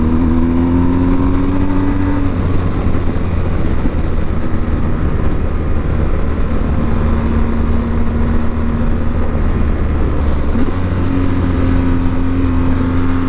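Engine of a BMW GS 1250 motorcycle under way, a deep, steady drone with slight rises and falls in pitch, heard close and loud over constant wind and road rush.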